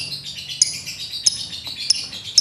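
A male lovebird chirps in short, sharp, high calls spaced about every half second to second, standing clearly over a steady background of softer twittering song.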